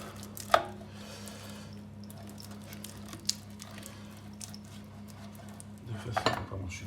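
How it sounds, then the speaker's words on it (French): Butter being spread around a cake tin for a magic cake, soft squishy smearing with a few sharp metallic clinks of utensil against the tin, faint and close, over a low steady hum. "vous prenez le moule dans lequel j'ai mis un bout de beurre que j'avais commencé déjà à écraser"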